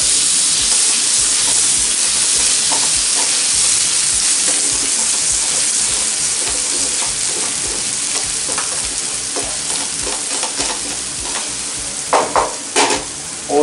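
Chopped tomato goes into mutton keema frying on a tawa, giving a steady loud sizzle and hiss with stirring scrapes, and sharper crackles near the end.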